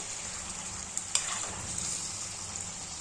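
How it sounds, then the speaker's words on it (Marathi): Large prawn pieces fry in hot oil in a kadhai, a steady bright sizzle throughout with a couple of soft knocks of a spoon stirring against the pan, close and moderately quiet, no voices. "ही कोळंबी माझ्याकडे ना थोडीशी बऱ्यापैकी मोठी होती, त्याच्यामुळं थोडेसे मोठे मोठे पीसेस आहेत। तिला तळून घेऊ आपण।"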